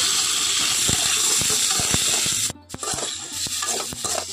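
Panch phoron and tomato hitting hot mustard oil in a pan, a steady loud hiss and sizzle close by with sharp clacks of a utensil, briefly dipping before the frying noise returns.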